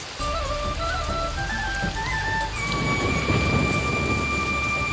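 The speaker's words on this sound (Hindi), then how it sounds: "इतनी तेज बारिश में साईं बाबा कहाँ होंगे पता नहीं।" Heavy rain with thunder pours down steadily, a dense hiss under a deep rolling rumble, while sustained musical tones ring over it throughout.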